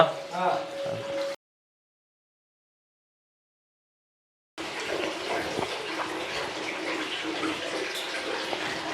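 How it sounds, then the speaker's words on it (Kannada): A brief voice opens, then after a short silence water rushes and gushes steadily, a continuous close flow that carries on to the end. "ಇಲ್ಲಿ ಯಾವಾಗ್ಲೂ ನೀರು ಹರಿತಲೇ ಇರ್ತದೆ ಯಾವಾಗ್ಲೂ"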